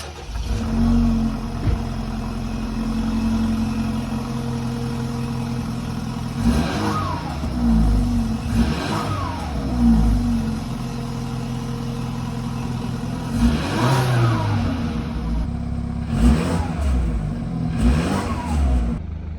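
A BMW 328i fitted with a cheap Temu-sourced Remus exhaust idles after a cold start, then gets several sharp throttle blips, each revving up and dropping back to a steady idle, with no talking.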